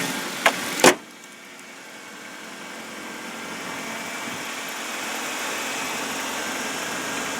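Ford Focus SE, 2010, with a Duratec inline-four, cold-starting: two sharp starter clicks and a brief crank, then a steady, even idle hum that holds for several seconds.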